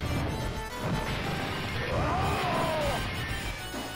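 Glass smashing in the Final Fight bonus stage of the Capcom arcade beat 'em up, a sharp crash amid continuous game noise and blows, with someone talking over it.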